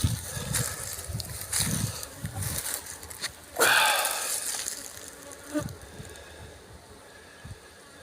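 Honeybees from a caught swarm busy in a beehive, their buzzing rising and falling close to the microphone with a few louder passes of individual bees near the entrance, no speech.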